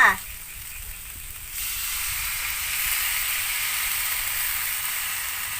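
Fish balls stir-fried with chili curry paste and kaffir lime leaves in a hot pan give a steady, moderately loud sizzle and hiss that swells after a brief quieter start and holds evenly, with no talking.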